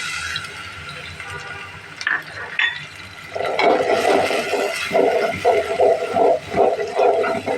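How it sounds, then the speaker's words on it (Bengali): Shrimp hit hot spice paste in a pan, bursting into a loud, steady sizzle partway through, with rhythmic stirring swells after a quieter start. "তখন আমি চিংড়ি মাছটা দিয়ে একটু ভেজে নেব"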